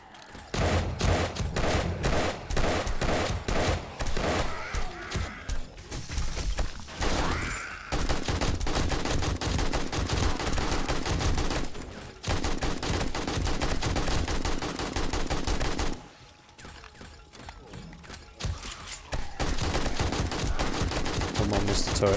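Automated defense turrets in the zombie survival game 7 Days to Die unload sustained rapid gunfire on a horde during horde night at a hospital, dense bursts hammering almost nonstop with two short pauses, while a player briefly speaks over the din.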